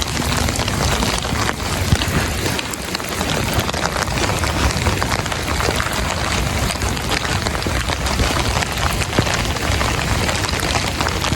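Heavy rain pours steadily onto surfaces, a dense continuous hiss and patter with close drops ticking throughout, loud and unbroken with no voices.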